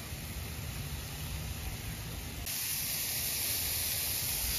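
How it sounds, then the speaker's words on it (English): Sausage sizzles on a Blackstone flat-top griddle outdoors, a steady soft hiss that swells noticeably louder about halfway through, with no voices. "Cooking up the sausage on the black stone with the smoke bomb"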